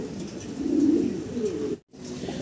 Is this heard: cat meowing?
no